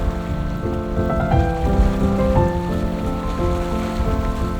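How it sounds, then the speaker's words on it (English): Lake water laps gently against the shore in a quiet Swiss outdoor setting, a soft, continuous wash of small splashes with no voices. "the only sound I could hear was the gentle lapping of the lake against the shore"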